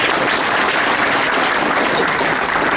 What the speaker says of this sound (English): Give Sister Nusayba a round of applause